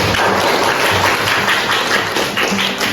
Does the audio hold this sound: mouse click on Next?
no